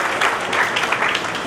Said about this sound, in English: Give a big round of applause for them